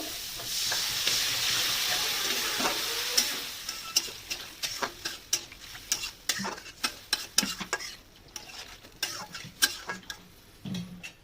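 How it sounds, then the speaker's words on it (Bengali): Water goes into a pan of fried spice masala for a tilapia fish curry: a loud sizzling hiss at first, then a run of sharp clinks and scrapes of stirring that keeps on to the end. "মশলাটা কষানো হয়ে গেছে, এবার দিয়ে দেবো জল।"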